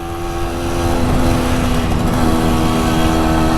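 MZ TS125 motorcycle engine held at the red line while riding on a track, a loud, steady, high-pitched two-stroke whine that stays close and constant throughout.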